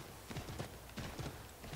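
Hooves of a horse in Assassin's Creed III clip-clop in two quick clustered bursts, a light rhythmic patter over quiet game ambience with no voices.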